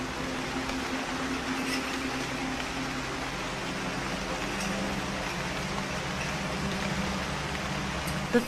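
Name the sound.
rain showers falling on the savannah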